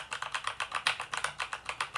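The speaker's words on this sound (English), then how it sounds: "This keyboard is a mechanical keyboard. Wow. It's backlighted. It has a really nice clicky sound." Typing on a backlit Keychron C1 mechanical keyboard with clicky switches, a steady run of crisp, close key clicks at a quick, even pace with no talking.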